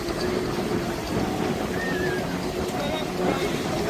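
Ocean waves wash steadily onto the beach at Teluk Kemang, Port Dickson, in strong wind, forming a continuous loud rush with voices talking over it.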